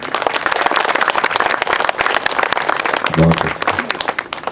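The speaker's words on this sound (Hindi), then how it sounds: "जोरदार तालियां" Audience applause at a spiritual talk, dense continuous clapping filling the room throughout, with a brief spoken voice heard over it.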